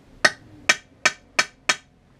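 A hammer strikes a punch five times at an even pace, marking a metal plate before drilling for a Trol-A-Matic installation; each tap is sharp, close and ringing, with no talk.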